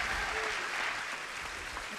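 An audience at a New Year's concert in Salerno applauds the conductor and the Filarmonica Giuseppe Verdi orchestra, a dense, continuous clapping throughout with a faint voice underneath.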